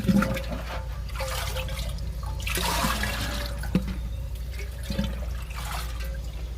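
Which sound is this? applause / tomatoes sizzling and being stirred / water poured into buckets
water poured into buckets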